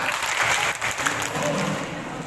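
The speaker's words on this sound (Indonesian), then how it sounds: "Tepuk tangan." Participants at a school workshop on religious moderation break into brief, dense clapping that fills the short moment at close range.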